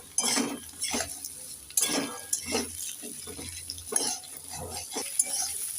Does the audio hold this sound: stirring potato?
yes